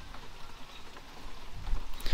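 Rain falls steadily outdoors on a chilly day, a soft continuous patter of drops on surfaces that swells slightly louder toward the end, with no talking.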